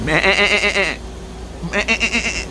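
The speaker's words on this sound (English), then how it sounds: "Oh, that's a goat. That's a goat, yeah." A goat bleats loudly and close to a phone microphone, two long wavering calls separated by a short pause, with a tremulous, nasal quality and no talking over it.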